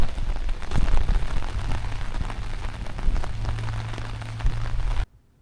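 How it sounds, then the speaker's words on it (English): Heavy early-spring rain pours steadily onto the ground and nearby surfaces around a greenhouse and duck yard, a dense, loud wash of drops with a low rumble beneath, cutting off abruptly at the end. "It's an early spring downpour."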